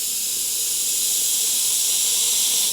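An airbrush sprays paint in a continuous, even hiss that stays steady and close for the whole stretch, with no pauses and no voices.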